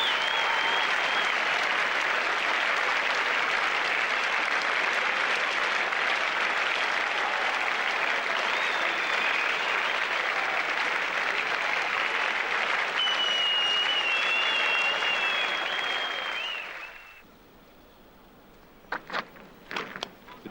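A cricket crowd of several thousand at a Test match in Brisbane applauds steadily and warmly for about seventeen seconds after a batsman's dismissal for 90, then the clapping fades out, leaving a few scattered claps.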